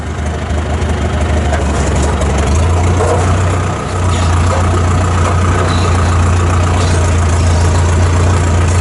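A John Deere tractor engine runs in low range, a loud, steady low-pitched idle-like drone that dips briefly near the middle before resuming, close by with no talk.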